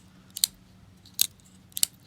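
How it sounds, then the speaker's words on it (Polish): Benchmade Mini Presidio II carbon fibre folding knife blade flicked open and shut, giving three sharp metallic clicks spaced apart, close and clear against quiet background hum. "Jeżeli ktoś lubi klikać nożami, no to benchmade świetnie się do tego nadają."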